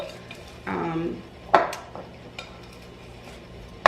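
Frozen peach and plum halves are stirred in a bowl, a short scraping swirl followed by a few sharp clacks of fruit and utensil against the bowl, close and moderately loud with no talk.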